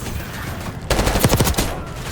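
Video game gunfire comes from a C9 light machine gun in a rapid automatic burst of about half a second, loud and close, following a quieter rumbling background.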